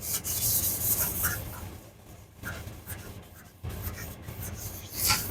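Block sanding by hand on a painted engine bay panel of a Mk1 Cortina GT, a steady close rasping rub in long back-and-forth strokes with a brief pause midway.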